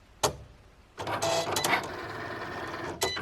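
Cricut cutting machine working on earring material: a sharp click, then a steady mechanical whirring and buzzing with small shifts in pitch for about two seconds, ending in another click, heard close and with no voices.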